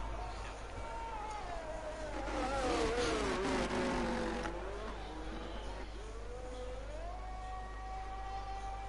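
A papaya-coloured McLaren race car in a racing video game at Monza, its engine note rising and falling through gear changes as it laps the track, with commentators talking over it throughout.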